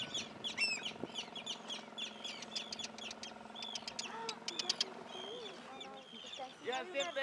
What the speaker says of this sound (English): You guys didn't think you'd be getting dive bombed by gulls today, did you? By terns.